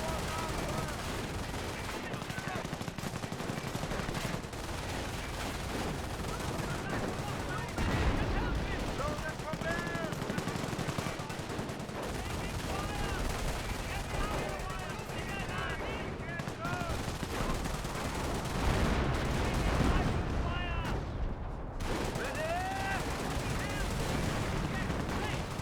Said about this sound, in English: This Pack 38 firing away.